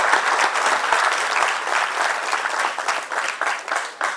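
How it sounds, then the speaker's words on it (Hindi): Steady applause from a seminar audience of CA students, dense overlapping claps that sound close and full, holding at an even level for a few seconds with no talking over it. "SL छाजर साहब के लिए जोरदार तालियां."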